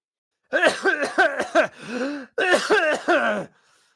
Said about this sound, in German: So ein kleiner Husten, der macht mir nichts.